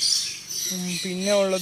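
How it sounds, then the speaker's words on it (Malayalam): Pet-shop birds squawk loudly, with harsh calls close by overlapping a voice that talks briefly. "കാരണം ഇവിടെ കിളികളെ ഭയങ്കര ഒച്ചയാണ്"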